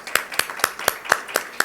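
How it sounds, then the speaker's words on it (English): Sparse, evenly spaced hand claps at an expo event, roughly seven distinct claps in a steady rhythm, fairly close and clear rather than a full crowd. "Let's give them a big round of applause for making this possible."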